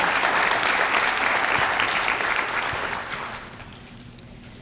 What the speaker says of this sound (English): Let's give Abigail another round of applause